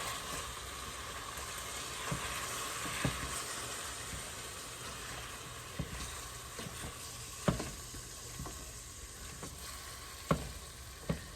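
Ground beef browning in a pan for hamburger quesadillas, a steady close sizzle and hiss with occasional scraping and mashing knocks from a utensil, no one speaking.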